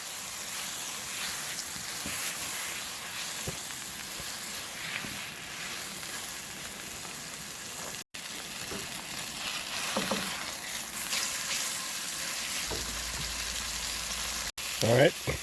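A thick New York strip steak frying in oil in a pan on a camp stove outdoors, giving a steady, close crackling sizzle that runs unbroken throughout with brief soft clatters over it.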